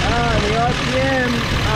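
Datsun 280Z engine with fast EFI idling while its idle air control is adjusted, a steady close rumble with the RPM rising and falling, under someone talking.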